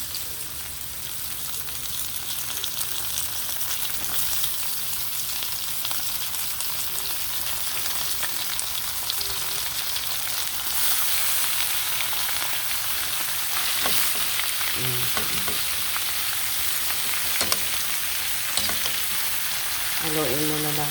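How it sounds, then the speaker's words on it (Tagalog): Pork frying in a pan for Bicol Express, a continuous loud crackling sizzle with occasional utensil scrapes and knocks as the meat is stirred. "Haluin muna natin guys."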